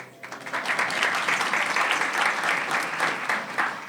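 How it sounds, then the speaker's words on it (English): Sustained applause from an audience at a 2024 city State of the City address, steady and fairly loud clapping filling the whole span without a break. "You all clapped"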